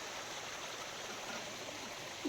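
Water flowing down from upstream in a channel that farmers dam to irrigate their fields, a steady, even rushing stream heard close and alone throughout, with a slight swell right at the end.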